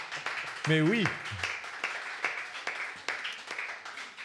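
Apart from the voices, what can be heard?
audience applause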